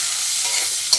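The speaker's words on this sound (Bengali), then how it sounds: "কুচিটাকে এখন লাল লাল করে একটু ভেজে নিতে হবে।" Chopped onion frying in a pan with cumin, cardamom and cloves, a steady close sizzle with a brief stirring scrape near the end.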